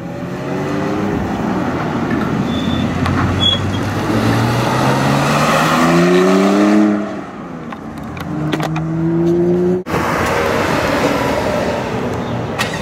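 Porsche GTS race cars drive past on a track, their engines rising and falling in pitch through gear changes as they approach and pass, with a loud close whoosh and a brief dip before another car follows.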